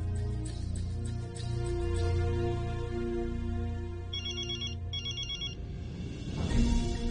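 A telephone ringtone playing on an outgoing call, two short bursts of chirping electronic tones standing out over a soft musical background, with no voices.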